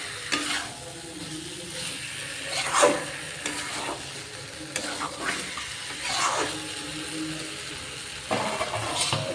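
Chicken fries in a pan while a spoon stirs it, giving repeated scraping sweeps over a soft, steady sizzle, close and moderately loud.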